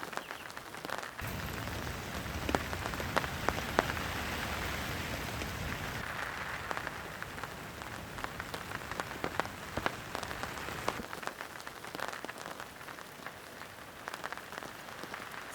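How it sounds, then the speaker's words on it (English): Heavy rain drums on a small one-person tent at a solo camp, a dense, steady patter of close drops that continues for the whole stretch with no voices. "I love camping in the rain"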